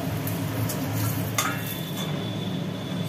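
Onion frying in hot oil in a kadai, a steady low sizzle with a brief clatter of a utensil partway through, close and continuous, with no voices.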